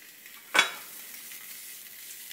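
Fresh shallots dropped into browned butter: a sharp sizzling burst as they hit the pan, then a quieter, steady frying hiss that settles in for the rest of the moment.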